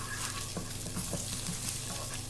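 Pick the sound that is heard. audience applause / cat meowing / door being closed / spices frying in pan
spices frying in pan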